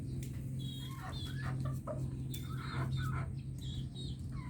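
Several chickens cluck and chatter close by while eating feed and leaves, with soft overlapping calls over a low steady background hum.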